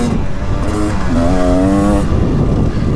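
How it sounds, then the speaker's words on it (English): A 2023 Beta 300 Race Edition two-stroke dirt bike engine drones steadily and loudly throughout, its pitch climbing and rising as the throttle opens midway, with no talk over it. "But I think this 300 smoker engine short stroke, I think it just calms down the power a little bit."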